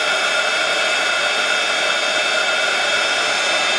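A heat gun blows a steady, loud, even whoosh of hot air over embossing powder, constant and unbroken throughout with no talking.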